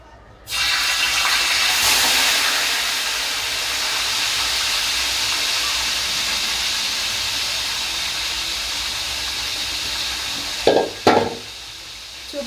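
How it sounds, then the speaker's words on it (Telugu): Marinated chicken mixture for chicken biryani goes into a hot pot, setting off a loud, steady sizzling hiss that holds for several seconds, with a couple of brief clatters near the end. "ఇప్పుడైతే ఈ చికెన్ కలుపుకున్న మిశ్రమాన్ని అయితే నేనైతే ఇందులో వేసేస్తున్నాను"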